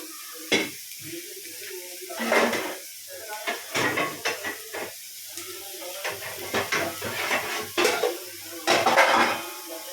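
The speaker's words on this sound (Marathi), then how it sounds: "आता मी ह्याच्यामध्ये बोंबील भाजून घेते।" Bombil (Bombay duck) fish pan-frying in oil with a soft hiss, broken by repeated clinks and scrapes of a spatula against the pan, close and fairly quiet.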